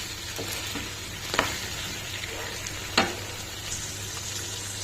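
Chicken curry fries with ginger garlic paste in a pan, giving a soft steady sizzle with a few sharp spoon taps and scraping stirs, close by with no talking.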